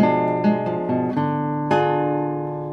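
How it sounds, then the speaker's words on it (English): A fully diminished seventh chord whose tones enter one after another in quick succession, then a fresh struck chord that rings out and slowly fades, close and clear with no talking. "A fully diminished seventh would have another minor third on the top as well, and would sound like this."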